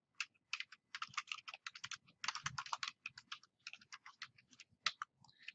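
Keys clatter on a computer keyboard as form fields are filled in: quick, irregular bursts of close, crisp typing with brief pauses between words, quiet and alone.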